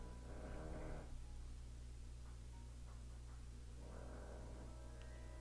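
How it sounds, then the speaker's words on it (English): A character in the game Sepia Tears snores loudly, two long rasping breaths separated by a quiet pause, heard against a steady electronic hum with no talking. "Why are you snoring so loud?"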